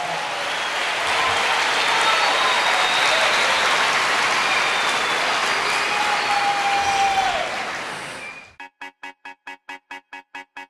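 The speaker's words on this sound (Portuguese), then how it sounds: "Dê para Jesus uma forte salva de palmas." A church congregation gives strong, dense applause for about eight seconds, loud and steady with no voices, then it cuts off and a short rhythmic electronic jingle starts.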